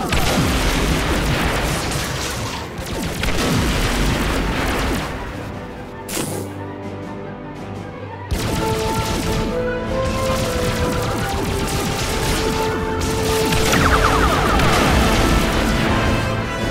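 Phaser fire and explosions in a Star Trek space combat video game, a loud continuous stretch of crashes, booms and bursts with a brief dip in the middle, all without talk.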